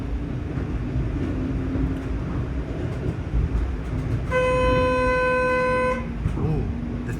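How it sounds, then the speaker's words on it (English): A TTC streetcar on Toronto's 501 Queen line sounds its horn once in a loud, sustained tonal blast lasting under two seconds, heard from on board over rumbling wheels and the hum of the ride. "that was a streetcar honk"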